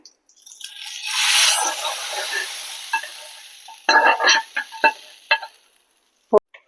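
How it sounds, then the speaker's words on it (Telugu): Loud sizzling hiss as hot spice tempering hits buttermilk for majjiga pulusu, fading over a few seconds, followed by scattered crackles and a few clinks. "చూసారా ఈ మజ్జిగ ఇలా ఇందులో ఈ పోపు వేసుకుందాం"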